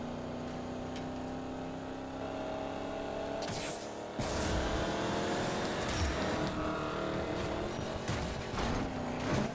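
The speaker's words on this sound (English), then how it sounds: "We just had a big, massive crash." A big, massive crash during a drag race in Need for Speed Payback: a steady racing-car engine drone, then a sudden loud burst of impact noise and grinding, followed by heavier, louder engine and wreck sounds. No one talks.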